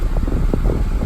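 Air blows from the dash vent of a 1990 two-door Range Rover, a steady close whooshing rush with faint mechanical fan texture.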